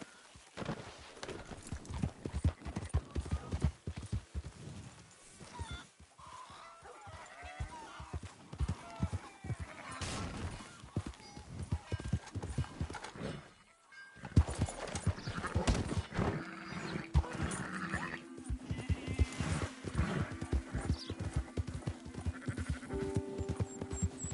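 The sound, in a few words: horse hooves clip-clopping in a PS4 video game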